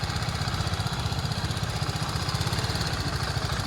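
A BMW GS motorcycle engine runs steadily at low speed while riding in circles at full steering lock, a continuous throbbing rumble with a regular pulse, close by and without any talking.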